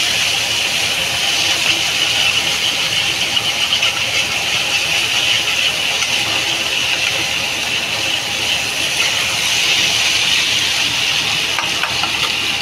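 Pointed gourd (potol) slices frying in oil, browning in a pan; a steady, continuous hiss of sizzling fills the whole stretch at close range, with no talk over it.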